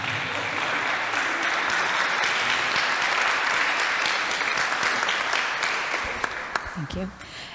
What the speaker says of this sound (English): If you could all give Mr. Johnson a round of applause.